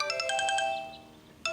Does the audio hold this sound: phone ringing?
yes